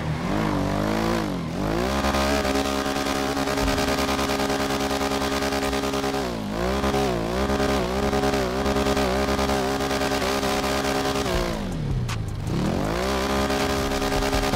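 Honda CG 99 motorcycle engine revving hard during wheelies in a GTA-style video game, a loud continuous buzzing drone that rises and falls in pitch with repeated throttle blips, no talk.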